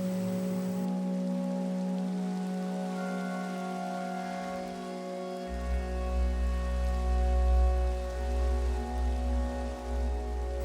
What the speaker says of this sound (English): like the rain is so realistic